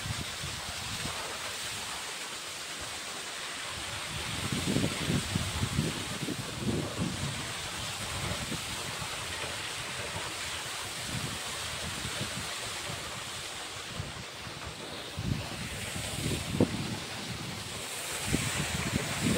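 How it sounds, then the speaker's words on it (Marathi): A well water pump motor runs with water gushing out, giving a steady, broadband rushing wash. It swells and churns unevenly, with no talk over it. "मोटर लगेच चालू केली आणि पाणी बघा."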